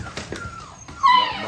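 Five-week-old puppies let out a short, thin, high-pitched whimper close by, with a few brief yips over faint background noise.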